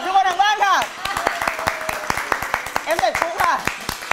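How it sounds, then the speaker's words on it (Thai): Sharp, scattered hand claps from a few people ring out amid excited talking, a quick irregular clapping that rises and falls. "ทุกคนทางบ้านปรบมือให้กับทุกคนทางบ้านค่ะ"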